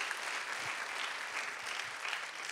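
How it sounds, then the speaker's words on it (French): An audience applauds steadily at the closing of a day-long event. The clapping is dense and even and sounds somewhat distant, with no voices over it. "Je voudrais que vous l'applaudissiez"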